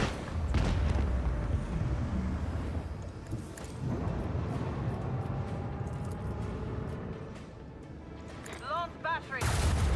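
Starship guns fire a volley in the Warhammer 40k Rogue Trader video game, a dense run of heavy booming shots and rumbling blasts through most of the stretch, with brief crackling bursts near the end.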